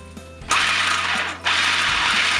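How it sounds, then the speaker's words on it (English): A food processor pulses bread into crumbs for a mac and cheese topping: two loud whirring bursts, each about a second long, separated by a short pause, with no talk. "So you're just gonna pulse this until it becomes crumbs"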